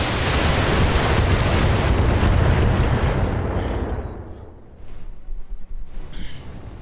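Missile explosions in the BattleTech mech game, a loud sustained roaring blast that fades after about four seconds into quieter rumbling and scattered debris sounds.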